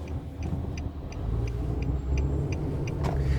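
Small 2016 Nissan Versa Note SR hatchback driving on a road, heard from inside as a steady low engine and road rumble that swells slightly, with faint periodic ticking above it.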